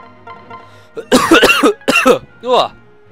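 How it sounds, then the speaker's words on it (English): Someone coughs in several harsh bursts, a short cluster followed by another and a final rasping cough, close and loud over near silence. "Got the coughs."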